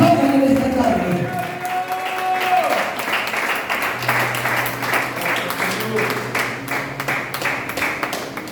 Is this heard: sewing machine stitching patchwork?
no